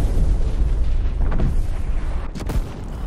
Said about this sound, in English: They just got nuked.